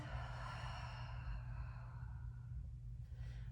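A slow, audible breath drawn in through the nose and released through the mouth during a mat exercise session, soft and airy over a low steady hum.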